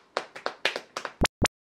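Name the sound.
hand clapping for sweet potato products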